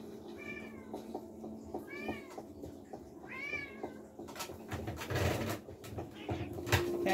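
A cat in the Minecraft video game meows three times in quick succession, clear and upfront, followed by busier game noises and clicks.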